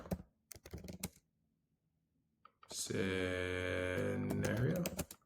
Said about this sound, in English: y'all know sometimes I'll be typing all crazy.